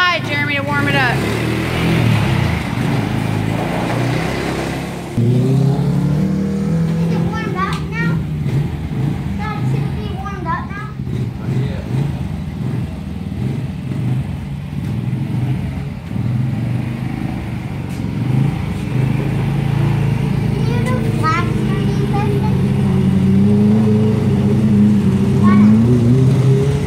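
A 600 micro sprint race car engine runs on choke while warming up, a steady rough drone with occasional revs as it is driven around, with people talking over it throughout.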